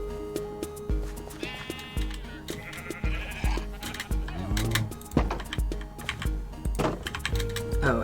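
Sheep bleat repeatedly among llamas, cows and a horse on a cozy video game farm, several wavering calls rising over steady background music while a person talks.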